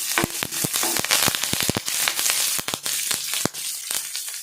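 A bunch of curry leaves hits hot oil with mustard seeds, cumin and green chili, bursting into a rapid run of sharp crackles and pops over a continuous sizzle, close and loud.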